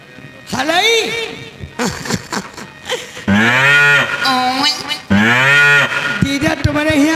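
A buffalo bellows loudly and close by in a rural Barabanki setting, giving several long, drawn-out moans with short pauses between them. The calls come in strong bursts.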